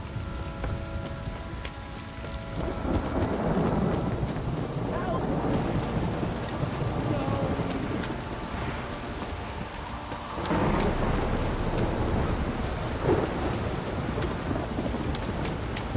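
Steady heavy rain pours down while low thunder rumbles and swells twice, with no voices over the storm, in the video game The Witcher 3: Wild Hunt.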